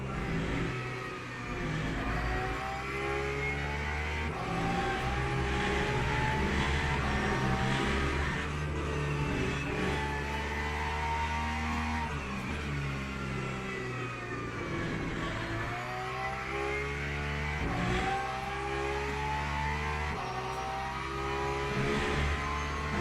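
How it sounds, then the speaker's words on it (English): A Porsche race car engine in the racing game Le Mans Ultimate, during a sprint race at Qatar, revving and shifting continuously with rising and falling pitch sweeps, loud and steady with no talk. "Porsche sounds so good."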